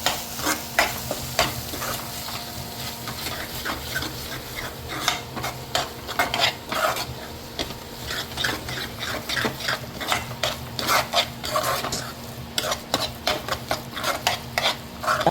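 Cumin and coriander powder sautéed in a pan for paneer bhurji, with a metal spoon scraping and stirring in quick repeated strokes over a steady close sizzle, no voices.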